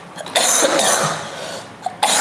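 A person coughs close and loud during a Free Fire livestream: a long, rough burst of hacking, then a short cough at the end.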